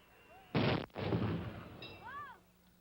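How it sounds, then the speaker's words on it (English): Gunpowder blasts from a 21-gun anvil salute in New Westminster: one loud, sharp boom followed by a longer rumbling blast with a decaying tail, over faint background noise. "the 21-gun anvil salute can be found nowhere else in the world except the Royal City, the city of New Westminster."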